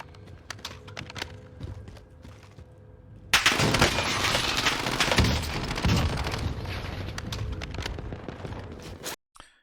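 Rapid bursts of Ram 7 assault rifle fire in the shooter game Warzone, sparse sharp shots at first, then a loud sustained stretch of close automatic gunfire that cuts off abruptly near the end.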